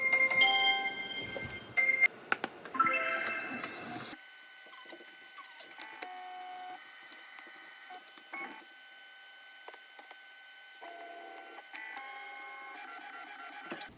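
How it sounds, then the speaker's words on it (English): A Eufy E1 UV printer printing custom merch, giving a quiet run of soft mechanical whirs, clicks and short electronic beeps, loudest in the first few seconds and then faint, steady carriage movement with scattered ticks. "changed the text, and now we are going to print it."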